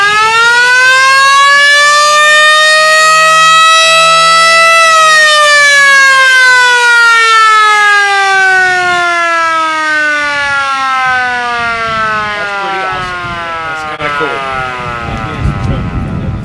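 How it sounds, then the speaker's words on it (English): A 1963 Ford Galaxie police car siren wailing loudly and continuously, its pitch holding then slowly sliding down as it winds down, close and dominant throughout. "Hit the siren. Yeah, let's hear it."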